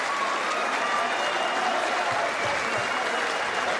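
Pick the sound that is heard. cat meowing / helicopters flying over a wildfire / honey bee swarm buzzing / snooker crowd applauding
snooker crowd applauding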